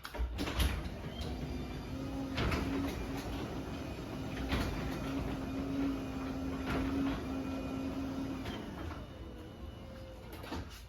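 A quiet, steady motorized hum with a low whirring drone and occasional faint clicks, running continuously as a garage door opener raises a door with new springs.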